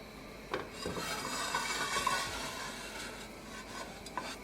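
Cumin seeds (jeera) sizzle in about a tablespoon of hot olive oil in a fry pan, a steady crackling hiss with a few sharper pops and light stirring scrapes, close and moderately loud, with no talking.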